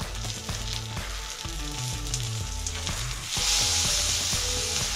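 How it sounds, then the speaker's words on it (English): Bacon slices sizzle and crackle steadily in a frying pan during a home breakfast cook, with loud continuous frying broken by low clinks and scrapes of a utensil, and a brighter surge of sizzle near the end. "Throw on a couple slices of bacon."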